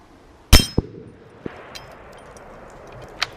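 A rifle round smacks an AR500 steel target with a sharp, loud metallic clang at the half-second mark, followed by fainter ringing pings and a couple of smaller distant clinks at an outdoor range.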